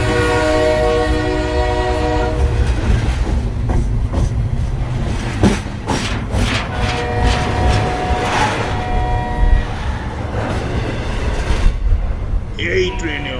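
A Mecheda local train rumbles past with a loud steady roar, rhythmic clickety-clack of wheels and a long horn blast at the start, heard up close as a sound effect in a Bengali horror story.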